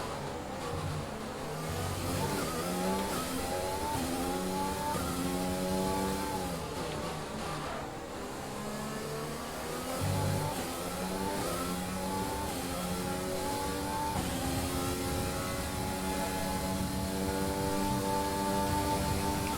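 Ferrari Formula 1 race car engine in the F1 2020 video game at the Azerbaijan Grand Prix, a loud continuous high-pitched whine rising and falling through repeated gear shifts as it accelerates, sustained for the whole stretch with no talk.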